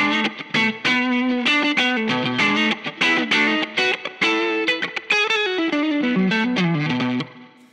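Electric guitar played through an Axe-Fx 3 modeler with a Klon Chiron overdrive model, in a heavy bass-boosted tone: a continuous run of driven, chorused notes that fills the clip at steady volume, alone, then fades near the end.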